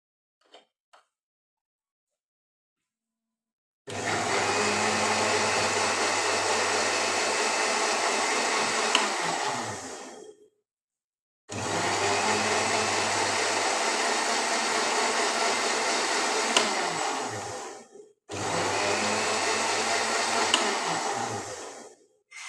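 Electric grinder blending plain yogurt smooth for a chicken gravy, running in three steady loud bursts of whirring with short pauses between, and no talking.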